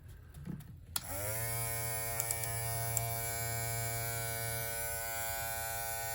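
A matte red FX Hitters electric hair clipper switches on after a click and hums steadily with a constant buzzing drone, close and moderately quiet, a few light taps over it.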